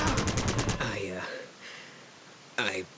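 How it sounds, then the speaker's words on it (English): Rapid burst of automatic gunfire from the video game Fallout Tactics, a quick rattling string of shots at the start followed by a voice, with another short sharp blast near the end. "Can I burst fire this guy?"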